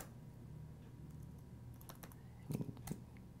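A password is typed on a computer keyboard, heard as faint, sparse key clicks with a short cluster of louder taps near the end, over a quiet room hum.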